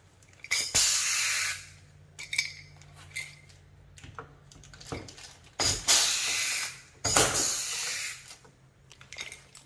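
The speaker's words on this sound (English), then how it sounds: "let's go ahead and put the rivet in so we don't have anything moving on us" A rivet is set during installation of front canards on a sixth-generation Camaro, heard as several short sharp hissing bursts from a nearby pneumatic rivet tool with clicks between them.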